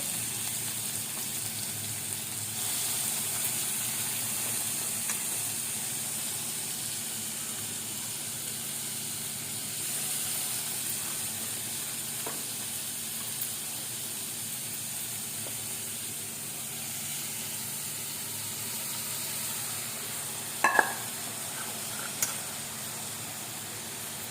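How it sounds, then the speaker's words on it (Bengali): Lentils (dal) dropped into hot oil give a steady, faint broadband sizzle throughout, with a couple of small pops and clicks near the end. "এবার তেলটাতে এই ডালটা দিয়ে দেবো।"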